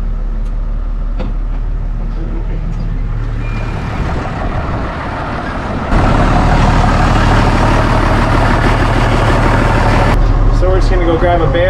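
An old New Holland tractor on a sheep farm cranks. Partway through, its engine catches with a jump in loudness and settles into a steady, close, low idling rumble.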